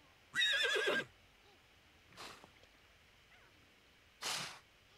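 Horse in The Sims 4 on a horse ranch gives a sharp, clear whinny, followed by two softer snorting breaths spaced a few seconds apart against a quiet background.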